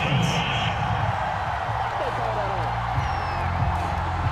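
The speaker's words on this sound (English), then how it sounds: "this crowd does not like that call. Understandable reaction from them." A stadium crowd in a Madden NFL game, Jaguars against Bengals, roars its disapproval of a penalty call in a steady wash of noise, with the commentary voice running over it.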